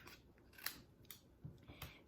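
Paper snips cut stamped Bumblebee cardstock in about four quiet, close crisp snips spaced irregularly over two seconds, with nothing else audible.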